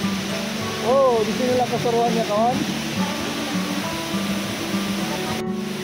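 A waterfall of tea-coloured, tannin-stained water in Maliau Basin gives off a steady broad roar that runs under an excited voice speaking close by.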